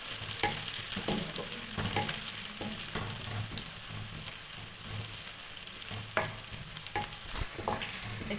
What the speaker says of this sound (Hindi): देखिए बहुत अच्छे से फ्राई हो चुका है लहसुन भी, और क्या नाम है, प्याज भी।